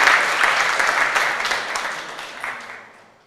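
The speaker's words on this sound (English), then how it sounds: "Please, a round of applause as they collect the award." Applause from an awards-ceremony audience at a sci-tech innovation challenge closing as winners collect their award, dense clapping that is loud at first and tapers off toward the end.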